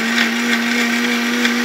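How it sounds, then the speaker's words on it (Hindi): A mixer grinder blends makhaniya lassi ingredients in its jar, giving a loud, steady, continuous motor whir with no pauses. "मिक्सी में लगा लिया है मैंने जार।"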